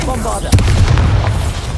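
A Bombarda explosion spell in Hogwarts Legacy bursts as a single sharp, loud boom with a short rumbling tail, set against busy combat noise and a voice.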